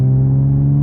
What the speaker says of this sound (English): I really do love the sound of this exhaust note